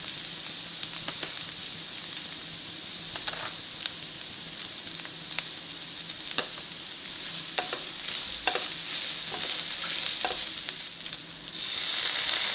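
Chicken and spices with sautéed onions sizzle steadily in a hot pan, with repeated scraping clinks of a spoon stirring through the mix, close and continuous with no talk.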